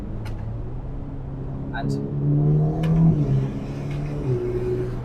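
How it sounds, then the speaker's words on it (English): Ferrari Roma Spider engine rising and falling in a few quick revving flares as gears drop down, heard close and fairly loud, with someone speaking briefly over it. "So we change down a few gears."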